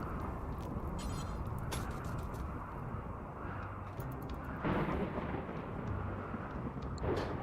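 A thunderstorm rumbles in the video game Rimworld, a low, faint, continuous wash of rain with a swelling roll of thunder partway through, heard alone with no one talking.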